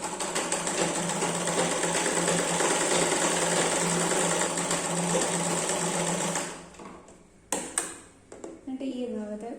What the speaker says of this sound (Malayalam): ഇതിനെ ഇങ്ങനെ ഒന്ന് മടക്കി നമുക്ക് സ്റ്റിച്ച് ചെയ്തെടുക്കാം